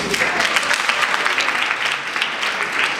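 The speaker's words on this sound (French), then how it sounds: "Je vous demande de l'applaudir." Steady, dense applause from an audience at a women's day event in a hotel in Haiti, even clapping throughout.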